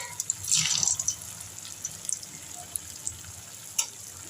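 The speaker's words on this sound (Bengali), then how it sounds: "এটা এইভাবে ভাজা হতে থাকুক।" Sweet potato ledikeni balls fry in hot oil, a soft close crackle and bubbling broken by a few brief sharper pops and spits.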